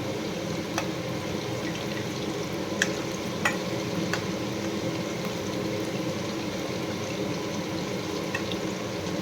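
Fish pakoras fry in hot oil with a steady, dense sizzle and occasional sharp crackles and pops, continuous and close with no talking.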